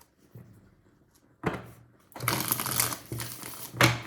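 Tarot cards being shuffled by hand, with a few soft riffles and crinkly bursts after a quiet start, the louder shuffling running through the second half close up.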